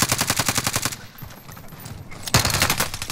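Automatic gunfire in a first-person shooter video game: two long bursts of rapid, evenly spaced shots, loud and close, split by a short lull of quieter game noise.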